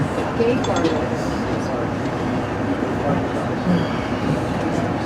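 Steady low rumble of a train rolling along the track between Quesnel and Whistler, continuous and fairly loud throughout, with faint voices mixed in.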